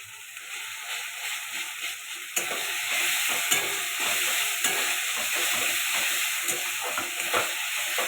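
Tomato with ginger-garlic paste stir-fried in a pan for a spicy pabda fish curry with potato and tomato: a steady, close sizzle with repeated stirring scrapes that grows louder partway through, with no talking.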